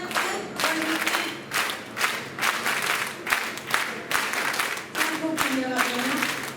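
An audience claps in rhythmic bursts, a counted pattern of short group claps repeating steadily, fairly close and loud, with a voice calling over it.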